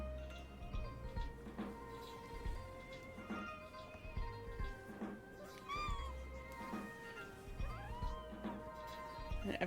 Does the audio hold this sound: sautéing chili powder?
no